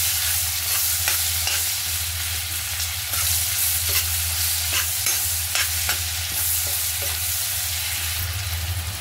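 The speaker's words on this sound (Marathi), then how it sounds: "त्यामध्ये 1 मोठा कांदा आपण उभा चिरून टाकायचा आहे." Lengthwise-sliced onion sizzles steadily in a hot pan for paneer curry, with repeated scraping stirs close by and no talk.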